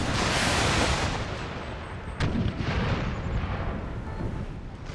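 Heavy cannon fire in a video game Battle of Gettysburg rumbles continuously, deep booms layered into a dense roar with one sharp blast standing out midway.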